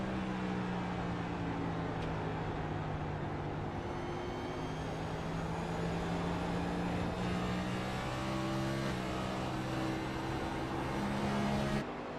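Onboard race car engine from the race leader's car at Gateway, a loud sustained drone with shifting harmonic pitch as the engine revs and eases through the lap, no voices.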